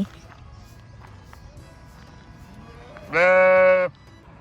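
A sheep on a sheep farm lets out one loud, drawn-out bleat close by, after a stretch of quiet ambient noise and footsteps.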